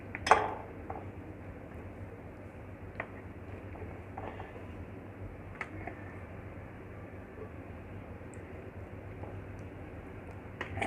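A utensil dishing out creamy fruit chaat into a serving dish gives a few sparse, faint clinks, one sharper knock near the start, over a quiet steady background hiss.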